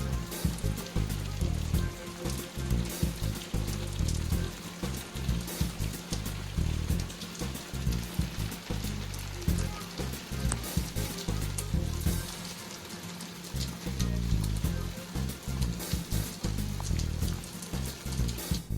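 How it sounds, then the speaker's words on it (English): Steady rain patters densely on a hard surface, a continuous crackling hiss with low rumbling thumps, close and fairly loud throughout, no voices. "We got more rain."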